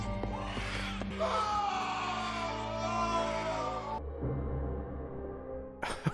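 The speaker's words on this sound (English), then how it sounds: "Because maybe the woman screaming was her giving birth?" A woman's drawn-out wailing scream, strained and sustained, from the opening of the film Batman Returns, set over an orchestral score that then drops to a lower, darker passage.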